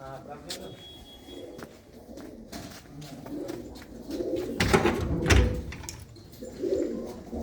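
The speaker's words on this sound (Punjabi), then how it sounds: "ਆਪਾਂ ਇੱਧਰ ਖੁੱਡਿਆਂ ਦੇ ਅੰਦਰ ਵੀ ਨੇ ਕੁਝ ਕਬੂਤਰ" Soft pigeon coos repeat nearby inside a pigeon coop, under voices talking, with occasional clatter and knocks from the surroundings.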